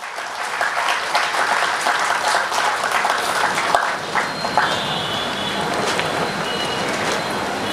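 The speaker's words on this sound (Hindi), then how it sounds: "दोनों हाथ खोलो और तबीयत से ताली बजाकर इन लोगों का अभिनंदन करो" A crowd claps steadily, a dense, sustained applause from many hands filling the space without pause.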